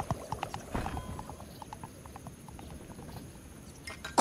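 Horse or unicorn hooves in the SpongeBob Cosmic Shake video game, a quick, even series of light clip-clop taps, fairly faint and alone.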